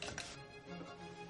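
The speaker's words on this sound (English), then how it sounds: "Roll them flat with a rolling pin." A rolling pin presses white bread slices flat on a kitchen surface, giving a few soft, muffled thuds and rolling rubs, close and quiet, with no talking.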